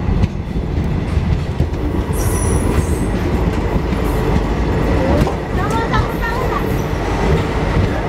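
The Nandigram Express runs along the track, heard from onboard as a loud, constant rumble of wheels and carriages, with faint metallic squeals and clicks rising now and then.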